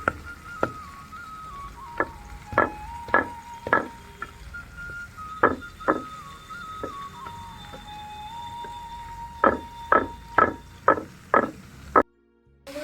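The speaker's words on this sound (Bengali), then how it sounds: "গুড়টা একটু ভেঙে নেবো নোড়া দিয়ে" A lump of jaggery is pounded with a stone grinder, sharp hard knocks landing in uneven clusters, close and distinct, with a faint tonal hum in the background.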